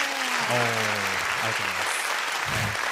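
Steady applause from a crowd continues throughout while a voice speaks over it.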